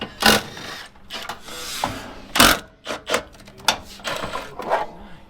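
A hand ratchet clicks and rasps while bolts are removed during a track swap on a Jeep, with irregular bursts of ratcheting and metallic scraping up close.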